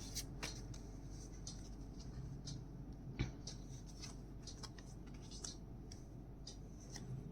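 A deck of tarot cards is shuffled, producing soft, sparse riffling and flicking clicks scattered over a quiet background, close but faint.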